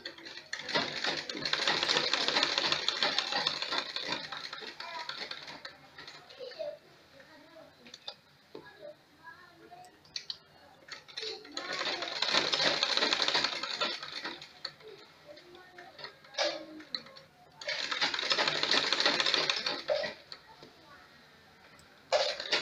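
Sewing machine stitching a pinafore from stiff, hard-textured fabric, three separate runs of fast mechanical stitching with quieter gaps between holding faint clicks and handling sounds.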